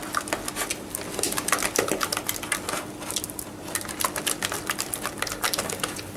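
Soft polenta with butter and cheese beaten in a pan, rapid irregular tapping and scraping strokes of the spoon continuing throughout, close and fairly loud.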